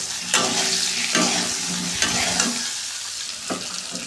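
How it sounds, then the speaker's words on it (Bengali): Potato pieces fry in hot oil, a loud steady sizzle broken by several sharp clatters of a spatula stirring them in the pan. "আলুগুলা লাল করে ভাজবো তার জন্য একে একে আলুগুলা অ্যাড করে দিচ্ছি"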